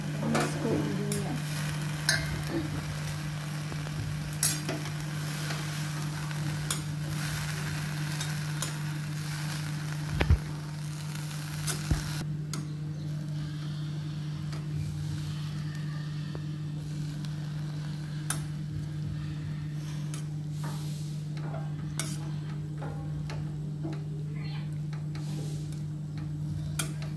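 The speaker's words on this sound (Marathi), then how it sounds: "मिक्स करून घेऊया।" Dill greens for shepu bhaji stirred in a hot pan, a continuous close sizzle with scattered spoon scrapes and taps against the pan, the hiss softening partway through, no voices.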